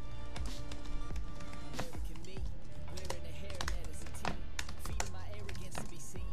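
Rapid keyboard shortcuts are typed on a computer keyboard during a Linux desktop setup, with quick clusters of sharp, close key taps and clacks in irregular bursts, running without a break.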